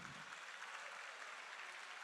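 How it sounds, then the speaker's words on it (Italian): Audience at a live evening show in Ollolai clapping to welcome a performer, a faint, steady spread of many hands heard from a distance, even throughout. "Un applauso per Walter Puddinu."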